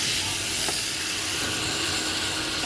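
Tomato paste fries in a pan for a potato and pointed gourd curry, giving a dense, continuous hissing sizzle, close and even throughout with no talking.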